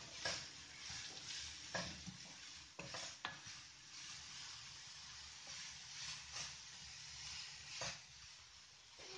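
Vegetables, including carrot, stir-fried over a high flame for spring roll filling, give a steady faint sizzle broken by repeated scraping and tossing strokes of a utensil against the pan, with no one talking.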